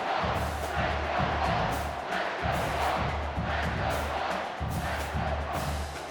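A large crowd in a college football video game, Tennessee vs Kansas State, roars and chants continuously, with rhythmic swells of voices blending into a dense, distant wall of sound.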